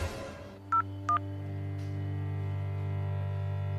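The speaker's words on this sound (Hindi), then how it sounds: "अभी हम दरोगा भूटन के फोन करतानी।" Two short electronic keypad tones beep in quick succession as a telephone number is dialed, over a steady low electrical hum, with no talking.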